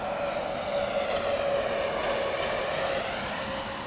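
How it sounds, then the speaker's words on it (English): An Icelandair Boeing 767 in new livery at Heathrow gives a steady, fairly faint jet engine roar with a sustained whine, continuous throughout with no voices. "Iceland Air's 767 new livery in town today."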